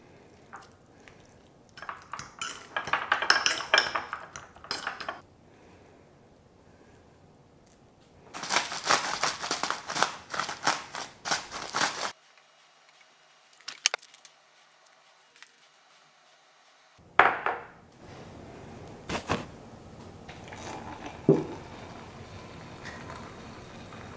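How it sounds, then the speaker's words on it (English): Serrated knife sawing through slices of bread in a home kitchen, with bursts of rasping strokes separated by pauses, some clatter of utensils, close and moderately loud. "serrated knife I have that's somewhat good is this one, so I'm going to use that to cut some slices"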